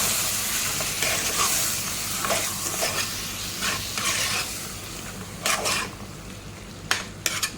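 About half a kilo of prawns with salt and turmeric fry in a pan while being stirred, a constant sizzle broken by several sharp metallic scrapes and clinks of the spoon against the pan.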